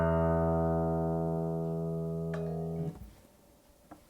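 An electronic guitar tuner plays a sustained, steady in-tune confirmation tone for nearly three seconds, ringing clearly and alone before cutting off, followed by a couple of faint clicks.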